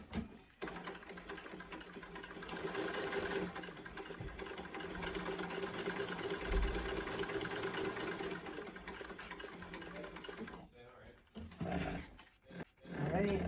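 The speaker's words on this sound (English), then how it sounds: "I'm also just gonna stitch right across the bottom edge as well" A sewing machine runs steadily, stitching across the bottom edge of a travel sling bag with a continuous motor hum, then stops briefly near the end with a few short bursts as it restarts.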